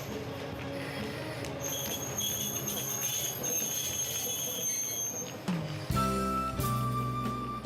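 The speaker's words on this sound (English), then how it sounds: "This wrap train, created from ideas submitted by residents, is known as the Shobara Satoyama train." A JR Geibi Line wrap train running through the countryside near Shobara: a rumbling passage with squealing wheels and high metallic tones, shifting toward the end into a sustained horn-like tone.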